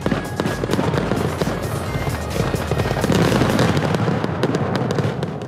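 Fireworks during an evening date, a dense crackling barrage of pops and bursts with deep booms, loud and continuous throughout.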